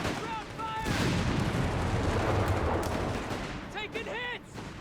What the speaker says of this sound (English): Bombarding the base.